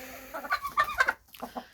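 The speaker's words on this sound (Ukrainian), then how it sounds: "Боже боже, ці кури." Chickens cluck nearby in a quick, uneven series of short clucks and squawks, with no one talking.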